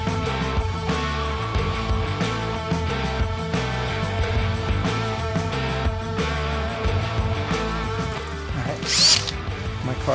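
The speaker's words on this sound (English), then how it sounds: "My carbide bit here just to clean up the edge." A carbide bit in a power tool grinds a metal edge in a garage, a continuous close, buzzing whine that holds steady throughout with slight wavering and a brief sharper squeal near the end.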